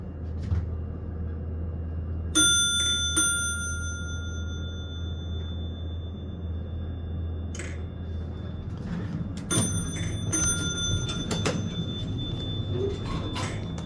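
Hydraulic elevator in a college hall, low on oil, with a steady low hum of the car running and several sharp metallic bell dings, two early and a cluster later, heard clearly over the drone.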